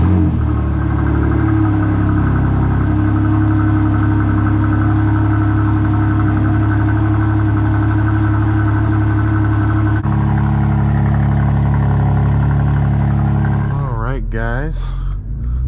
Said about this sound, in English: We're going to take the M2 out for a spin today and get started.